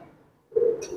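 A single short, close coo from racing pigeons being trained for the season breaks a near-silent moment and fades quickly.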